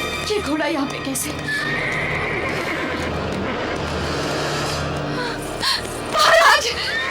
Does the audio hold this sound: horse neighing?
yes